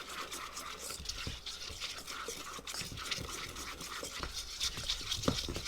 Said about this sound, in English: And you whisk that together.